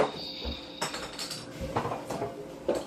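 A can of non-stick cooking spray dropping and clattering in a kitchen, a few sharp metallic knocks and bounces over a quiet background, close by.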